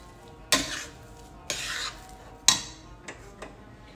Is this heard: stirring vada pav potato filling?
yes